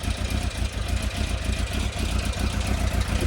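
A new motorbike engine idles with a slight misfire, a loud close-up chugging pulse that runs steadily with small irregular stumbles in its rhythm.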